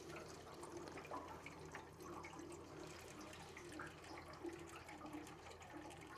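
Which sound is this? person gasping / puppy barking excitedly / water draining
water draining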